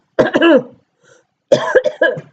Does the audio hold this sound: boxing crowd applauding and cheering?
no